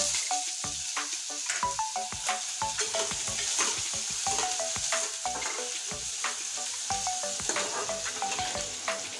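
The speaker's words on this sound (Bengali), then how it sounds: "আজকে ফোড়নে দিচ্ছি জিরে, আর এখানে আছে কুচানো পেঁয়াজ, এটা দিয়ে দিচ্ছি।" Chopped onion and cumin seeds sizzle and fry in hot mustard oil, a dense steady crackle broken by repeated clicks and scrapes of a spatula stirring in the pan, no voices.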